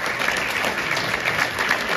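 Audience applause at a town patronal festival in Castellanza, a steady, dense clapping that fills the whole stretch at even strength, with no voices over it.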